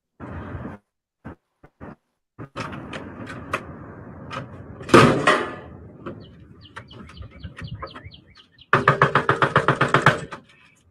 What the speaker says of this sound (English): So you hear that loud ass knock